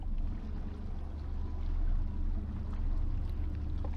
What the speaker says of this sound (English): Come on, boat. Go faster.